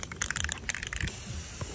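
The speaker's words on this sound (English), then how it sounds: "next, we're moving on to spray paint" Short hissing bursts from a spray paint can painting a football helmet, several quick sprays in a row close to the microphone, then a brief pause.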